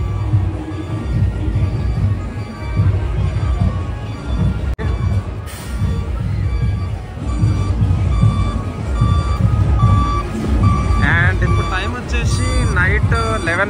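A flower-decked Tata Tusker truck carrying a Ganesh idol in a night-time Ganesh procession sounds repeated reversing beeps amid loud, dense crowd noise and talking.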